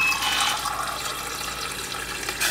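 Water running from a Hyflux Dragonfly M18 air-to-water machine into a glass, a steady close hissing pour that keeps going without a break, with no voices.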